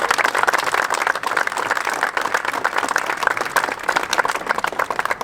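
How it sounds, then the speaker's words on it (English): A political victory speech for a New York congressman draws sustained audience applause, a dense, steady wash of many hands clapping at close range for the full length, with no talk over it. "ask you to join me in giving him a round of applause"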